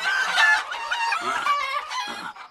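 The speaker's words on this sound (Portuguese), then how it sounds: "um monte de galinha ficou piando no ouvido dele" Cartoon chickens in Clarence cluck and squawk in a busy, overlapping flock. The chatter is bright and continuous, with a few crowing-like calls mixed in.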